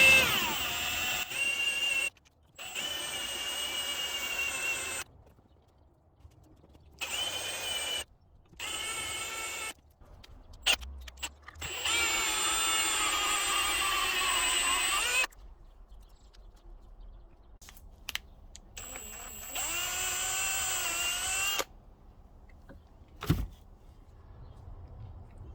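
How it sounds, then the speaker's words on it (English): A power drill with a cobalt bit drills out a seized bolt during alternator removal on a Subaru WRX STI, whining in repeated short bursts separated by silent pauses, close and fairly loud. "I'll switch to a cobalt drill bit now because that previous one just broke."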